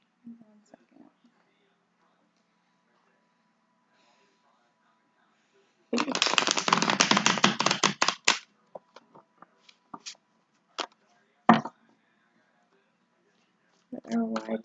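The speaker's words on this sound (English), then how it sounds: "They're telling me to shuffle again." Tarot cards being shuffled, a dense riffling burst of about two seconds followed by a few scattered card taps and slaps, close and fairly quiet in an otherwise hushed room.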